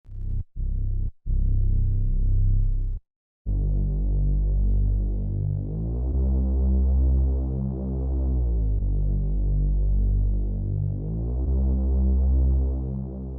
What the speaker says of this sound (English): One more bass for variation.